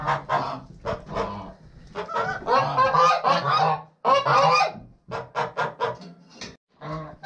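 A flock of large domestic geese honks loudly and repeatedly nearby on a village farm, harsh overlapping calls in bursts with brief pauses between them.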